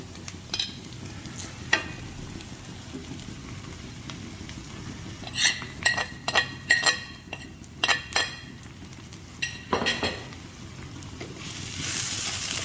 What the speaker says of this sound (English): And stir it. Saute it for about 15 seconds.